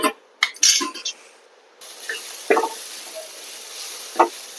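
Onions fry in a pan and are stirred now and then. A steady sizzle runs under a few scraping clinks of a spoon against the pan.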